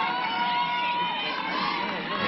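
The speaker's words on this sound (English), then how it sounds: "the crowd is bundled up and making some noise too" Spectators at a cold-weather college softball game between Oklahoma and Northwestern, bundled up and making noise: a continuous mix of shouting, cheering and chatter from the stands, moderately loud and steady throughout.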